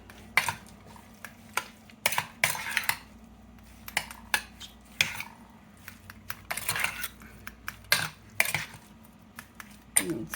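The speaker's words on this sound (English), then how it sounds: "You want to take 1/2 teaspoon of Old Bay and sprinkle it on the shrimp, and then just want to stir it in there." A spoon scrapes and clinks in a bowl as Old Bay seasoning is stirred into raw shrimp, with irregular close knocks and rattles separated by brief pauses.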